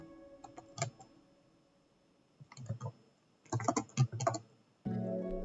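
Clicky bursts of keystrokes on a computer keyboard while C++ code is typed, coming in short uneven clusters separated by pauses, close and moderately loud, with no voices.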